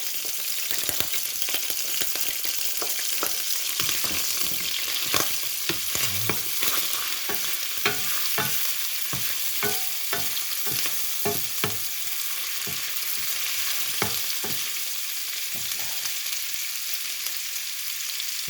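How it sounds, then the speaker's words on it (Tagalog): Butter melts over medium flame in a pan for sautéed fermented rice and fish, sizzling steadily while a utensil scrapes and stirs in repeated clicks and strokes, close and continuous. "habang minemelt po natin yung ating butter"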